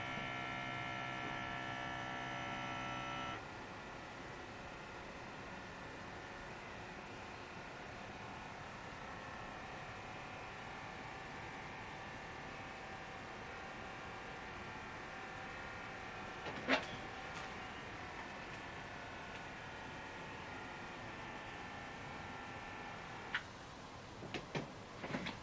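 An electronic blood pressure monitor runs with a steady motor hum and faint ticking, its pitch shifting as the cuff works, ending in a few soft clicks.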